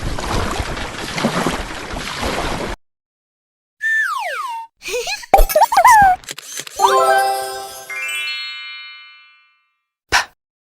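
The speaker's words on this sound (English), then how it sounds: "ship." A ship sound effect for a children's English lesson: sharp clangs and sliding, whistling tones give way to a sustained horn-like blast that slowly fades, followed after a short silence by a single quick click.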